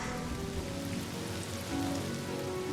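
Steady rain falls in the video game Honkai Star Rail, a dense continuous patter on surfaces with a low rumbling bed, fairly soft and without talk.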